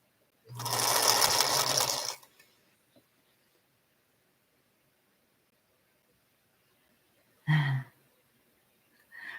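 A sewing machine stitches quilt block sections together in a loud, close burst of about one and a half seconds, then a much shorter burst follows after a long quiet pause.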